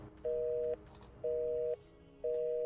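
Telephone call signal in the Without Escape video game: three evenly spaced steady tones, each about half a second long with equal gaps, clear and alone against faint background noise.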